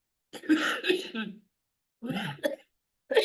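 Several harsh, throaty coughs come in short clustered bursts with brief pauses between them, fairly quiet and close.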